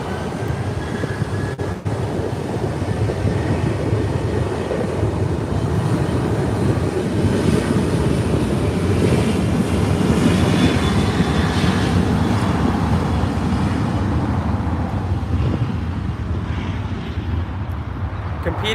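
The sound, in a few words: Southwest airplane engine landing at LAX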